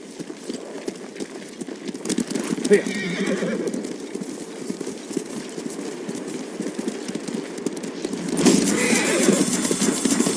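Horses whinny and snort over steady clip-clopping hooves in the video game Ghost of Tsushima, with the hoofbeats growing louder and busier near the end.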